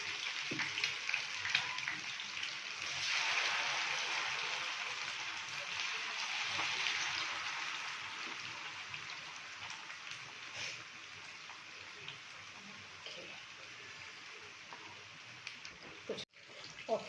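Fish coated in green masala frying in a pan over lowered heat, a steady, close hiss of sizzling oil that runs unbroken, with a brief clatter near the end.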